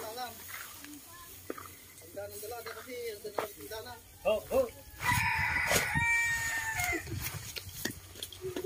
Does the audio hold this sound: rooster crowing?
yes